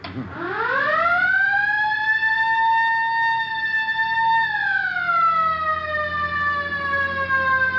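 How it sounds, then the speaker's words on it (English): A loud police car siren in a 1950 radio drama wails continuously, its pitch rising sharply at the start, holding steady, then sliding lower as it carries on nearby. "All right, hit the siren."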